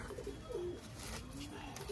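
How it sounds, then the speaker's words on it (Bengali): Pigeons cooing nearby, including racing or carrier pigeons, with soft repeated throaty coos standing out from faint background noise and no talking. "পায়রা দুটো একবার দেখে নেবো বাচ্চাতে।"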